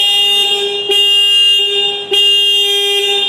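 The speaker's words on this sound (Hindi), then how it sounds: "पहले हम लोग देखते हैं पल्सर का हॉर्न।" A Bajaj Pulsar 125 motorcycle horn sounds in three long, loud blasts separated by brief gaps, steady and close up with no talking.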